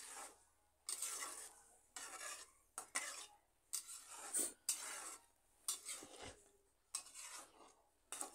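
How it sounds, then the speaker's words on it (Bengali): Spoon stirs raw tomatoes and water in a pot with repeated scraping strokes about once per second, soft and close, with light metallic clinks and no talking. "এবার জল দিয়ে ভালো করে লাড়িয়ে চাড়িয়ে জলের সাথে কাঁচা টমেটো আমি"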